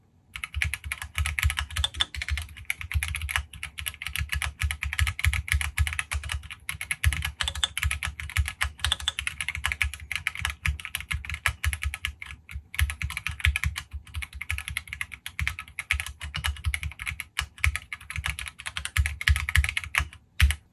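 Fast, steady typing on an AKKO MOD 008 mechanical keyboard with anodized aluminium case, aluminium plate and Jelly Black switches, dense clacky keystrokes rattling close by with brief pauses, no voices.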